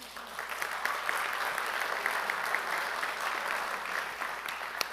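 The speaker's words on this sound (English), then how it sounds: "can we give another round of applause for our students?" Steady applause from a crowd at a school district board meeting, honoring students, sustained and even throughout with a dense wash of many hands clapping at moderate distance.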